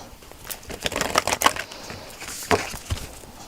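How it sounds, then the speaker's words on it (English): A deck of oracle cards being shuffled during a pick-a-card reading, giving quick papery riffles and taps in short bursts, close and fairly soft, with no talking. "These are kind of hard to shuffle lately."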